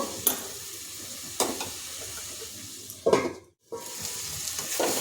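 Whole garam masala fries in a pan and is stirred with a utensil, giving soft sizzling under scraping strokes, a few sharper clinks against the pan and a brief quiet gap.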